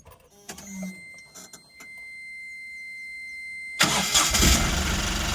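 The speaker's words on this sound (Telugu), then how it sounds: "ఒకసారి మీకు బండి కూడా స్టార్ట్ చేసి చూపిస్తాను చూడండి ఫ్రెండ్స్" A 2023 Bada Dost pickup truck engine is started after a quiet pause, catching abruptly with a loud, broad roar that settles into steady running for the last second and a half.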